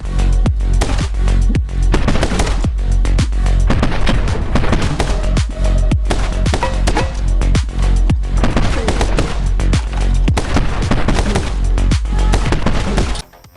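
Shooting in a video game fills the scene with loud, dense gunfire: rapid repeated shots and bursts blend together continuously before cutting off abruptly at the end.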